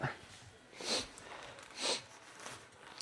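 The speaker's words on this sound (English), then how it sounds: "I'm still sniffling a good bit" A person with allergies sniffles twice, two sharp nasal sniffs about a second apart, close to the microphone, with faint room noise between them and no talking.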